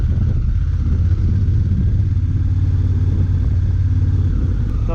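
A 2016 Honda Africa Twin motorcycle rolls slowly across wet grass, its engine a steady, loud, close rumble with a constant low drone and no strong revving.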